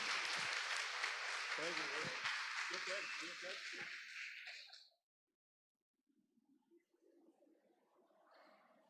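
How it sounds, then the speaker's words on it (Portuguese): Applause from a church congregation at an online service greets a prophetess, a dense patter of clapping for about five seconds, cut by a brief silence, then softer murmuring and talk. "Vamos receber, meu irmão, a profeta do Senhor, a profetisa do Senhor, com uma salva de palmas em nome de Jesus."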